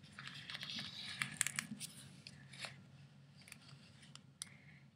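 Scissors snip through a stamped edible sugar sheet image in a series of quiet, crisp cuts, bunched at first and then spaced out, close by with no talking.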